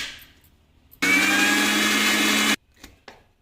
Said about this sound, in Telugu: మళ్ళీ మిక్సీ అనేది పట్టుకోవాలా